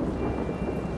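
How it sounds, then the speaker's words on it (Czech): Thunder rolls steadily through a storm, a dense low rumble filling the moment with rain noise hissing over it and no voices. "to je jenom hrom a blesky"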